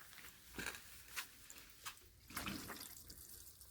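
Vegetable container plants under an awning get watered on a hot 91-degree day, giving soft, intermittent splashes and trickles of water in short bursts, close and fairly quiet.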